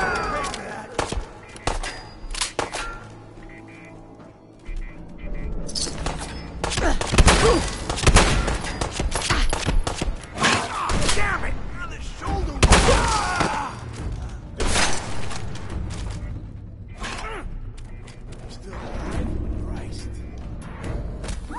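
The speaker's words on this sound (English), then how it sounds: "The turret downstairs has been firing on and off." In Fallout 4, a turret fires in irregular bursts of thumping gunfire mixed with impacts and slams, while people talk over the din.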